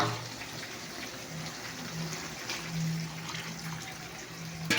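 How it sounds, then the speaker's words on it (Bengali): Water pours steadily into a pan of fish curry with potol and potato, making a continuous close gush for several seconds that ends with a brief clatter. "আমি জল দিয়ে দিলাম।"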